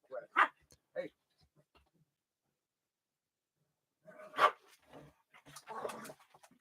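Dogs at play bark and yip in short bursts, a couple of sharp barks early on, then silence, then a louder cluster of barking and growly yelps toward the end, fairly close by.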